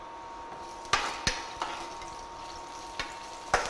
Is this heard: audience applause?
no